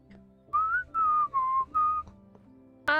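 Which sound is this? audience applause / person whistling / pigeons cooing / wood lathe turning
person whistling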